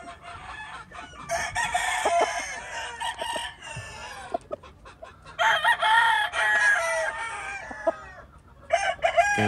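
A rooster from a gamecock crossbreed crows loudly and close by, two long strained calls with clucking fowl around and a short call at the end.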